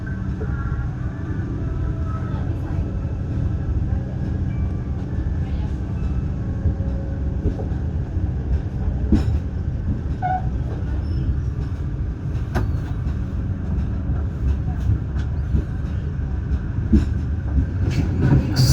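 KA Airlangga passenger train running on the line in Central Java, a steady loud rumble of wheels and carriage with occasional clanks and creaks, heard from inside the coach throughout.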